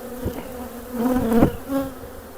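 Honeybees buzz around a single beehive in a front yard, close and humming with a few louder passes as individual bees fly near.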